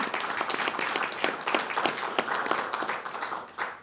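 Conference audience applauding a museum team, a dense patter of many hands clapping at moderate distance, continuous for a few seconds without voices.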